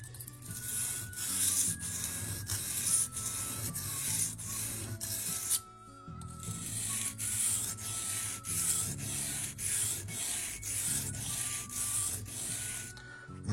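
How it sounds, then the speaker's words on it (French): A leather-working tool blade is rubbed back and forth on the fine-grit side of a whetstone, giving close rhythmic scraping strokes in a steady even series, with one short pause midway. "retournez la pierre pour procéder de la même manière avec le grain plus fin"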